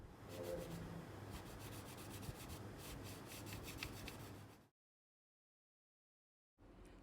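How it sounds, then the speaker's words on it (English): A cheap budget keyboard's switch, its contact points lubed, still gives a scratchy, rattly rubbing sound, close and steady for several seconds before cutting to silence and returning briefly at the end. "you can actually hear that it's still rattly, like it's still scratchy after I even looped the contact points"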